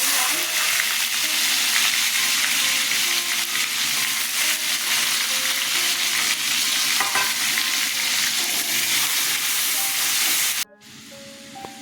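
Sliced onion fries in mustard oil tempered with bay leaf and dried chili, a loud, steady, close sizzle and hiss that runs unbroken before cutting off abruptly near the end.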